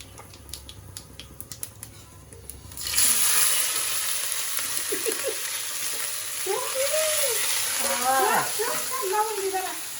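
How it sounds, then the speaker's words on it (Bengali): Cumin, bay leaf and garlic, ginger and cumin pastes hitting hot oil in a village kitchen: a sudden loud sizzle that stays steady after a few seconds of quieter tapping, with voices talking over the frying. "জিরা তেলের উপর দিলাম, তেজপাতা দিলাম, এখানে হচ্ছে রসুন বাটা"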